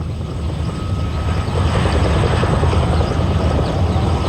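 The huge Soviet Mi-12 twin-rotor helicopter drones through a test flight, a loud, steady rotor-and-engine roar with a dense, throbbing texture that stays constant throughout.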